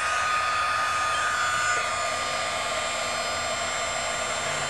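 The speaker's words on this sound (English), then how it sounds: "And so let's heat emboss this." A heat embossing tool blows hot air onto acrylic plexiglass, a steady loud whirring fan hiss that runs continuously and close, with no talk.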